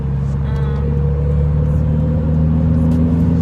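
A manual-transmission car engine drones steadily at low revs, a constant rumbling hum with a faint whine, no clear gear change or rising rev.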